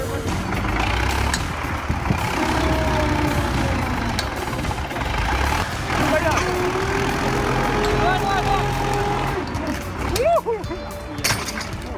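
An LKT-81 forestry tractor with a turbocharged 4-cylinder diesel engine runs in a steady, loud, dense rumble near forestry machinery, with a brief rising whine near the end.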